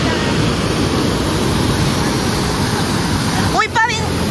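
Strong, fast river current rushes in a steady, loud broadband roar throughout, on a dark stormy day, with a brief gust or bump near the end.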